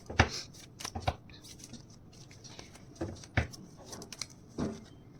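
Tarot cards being shuffled by hand in a few quick, soft riffling bursts with gaps between them, fairly close and quiet, with no voice over them.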